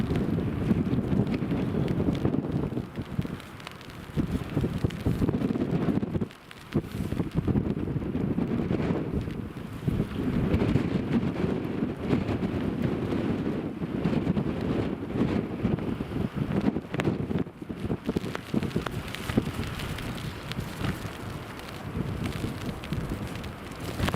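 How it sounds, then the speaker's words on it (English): Strong gusty wind buffets the microphone at Newcastle Airport during Storm Ashley, a continuous loud roar with rumbling surges and brief lulls and no voices. "that wind, look at the wind on the bushes over there"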